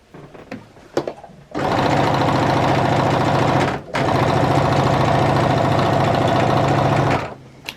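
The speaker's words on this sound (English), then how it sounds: "you're going to hear the machine going" Sewing machine running a straight eighth-inch seam on quilted jelly-roll fabric for a tote bag: loud, close, steady whirring in two long continuous bursts with a brief pause between, after a few light handling clicks.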